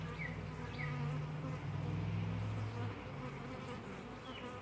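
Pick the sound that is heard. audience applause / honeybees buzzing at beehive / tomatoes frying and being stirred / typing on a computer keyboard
honeybees buzzing at beehive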